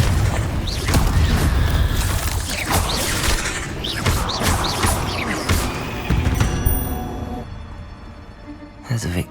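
Confringo fire spell blasts in Hogwarts Legacy gameplay, a run of loud booming explosive hits amid busy combat effects and music, ending with a sharp final impact.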